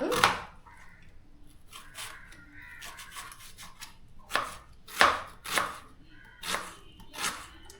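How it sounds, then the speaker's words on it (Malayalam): Sharp knife strikes against a cutting board, finely chopping vegetables, scattered at first then a quicker run of loud, close chops, with a soft rustle between them. "നമുക്കിത് ഒത്തിരി കുരുകുര അരിയണം"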